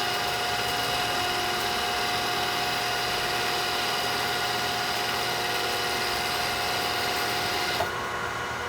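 Lathe turning at about 1120 RPM and cutting a 6x48 belt sander drum mandrel, the tool breaking chips: a steady, loud, dense machining hiss and whine with a constant tone, ending in a sudden drop near the end.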